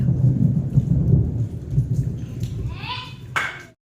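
Deep, loud thunder rumbles continuously over steady rain, fading in the last moments as sharper rain or crackling sounds come through.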